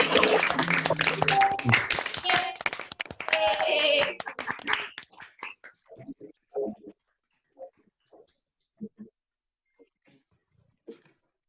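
Graduates unmuted on a video call clap and cheer together, a dense burst of mixed claps and voices for about five seconds that thins out into scattered, faint claps and sounds.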